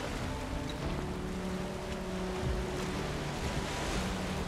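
A large boat sailing on ocean waves in Valheim, steady rushing water and wind noise throughout with a faint low creaking hum, no talking.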